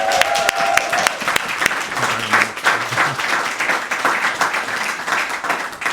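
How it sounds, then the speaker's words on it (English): A press conference crowd breaks into loud, sustained applause for Lloyd Russell-Moyle, dense clapping from many people continuing throughout without pause. "Please give a huge round of applause to Lloyd Russell-Moyle"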